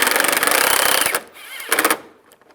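Power screwdriver buzzing loudly for about a second as screws are driven into the air deflector of a 1999-2005 Volkswagen Jetta, followed by a quieter pause and a second short burst of driving.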